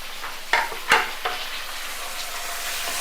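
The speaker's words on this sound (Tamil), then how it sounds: "சேர்த்துட்டு இது நல்லா ஃபுல்லாக வதக்கிக்குவோம்." Chopped onion and tomato sautéing in a pan for Tamil dried-fish rice, a steady close sizzle with a few louder stirring scrapes early on, no talk.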